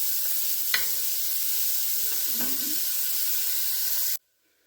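Onions being stirred in hot bacon fat give a steady close sizzle and hiss, broken by a couple of brief scraping stir sounds, then cutting off abruptly near the end.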